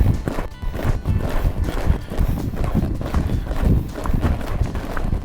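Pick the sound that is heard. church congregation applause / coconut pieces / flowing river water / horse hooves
horse hooves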